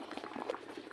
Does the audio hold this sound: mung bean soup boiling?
yes